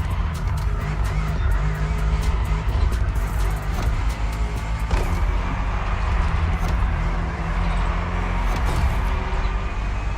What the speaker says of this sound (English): Guessing this is a replica M4 race car,